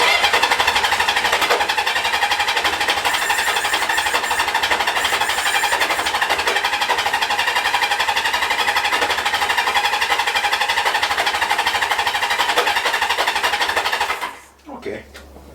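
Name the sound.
1978 Kawasaki KZ650 motorcycle engine cranking with choke on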